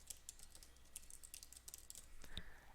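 Rapid, uneven keystrokes on a computer keyboard as a username and password are entered, a steady clicking run that ends in a couple of firmer key presses, close and moderately quiet.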